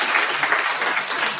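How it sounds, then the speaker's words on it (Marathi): An audience at a lecture breaks into a brief burst of steady, close applause from many hands clapping together. "याला कोणी टाळ्या वाजवा"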